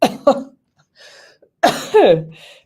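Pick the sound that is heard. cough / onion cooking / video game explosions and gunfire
cough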